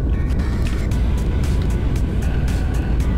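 Vehicle engine roaring at full throttle in the game Instruments of Destruction, a loud continuous low rumble with rhythmic pulsing bursts throughout.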